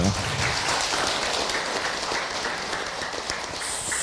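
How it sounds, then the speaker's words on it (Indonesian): An audience of women applauds together, a steady, dense patter of clapping that holds evenly throughout with no clear talk over it. "Tepuk tangan buat kita semua."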